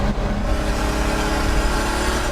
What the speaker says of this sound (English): that's called open throttle compressor surge